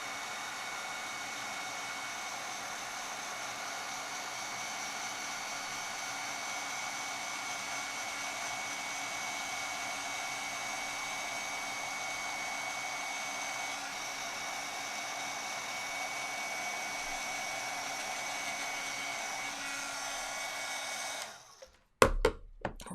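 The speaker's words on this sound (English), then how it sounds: "I'm going to heat up my heat tool and we'll melt the powder" A craft heat tool melting embossing powder blows a steady, loud, hair-dryer-like whoosh for about twenty seconds, then cuts off abruptly and a few handling clicks follow.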